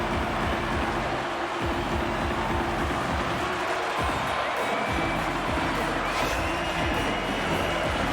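Hockey arena crowd in NHL 26 cheering as a steady, loud, roaring wash of many voices, sustained throughout with some rising swells.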